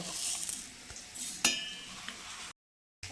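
Bitter gourd frying in oil with a spoonful of mustard seeds, giving a steady soft sizzle, a sharp utensil clink midway, and a brief silence near the end.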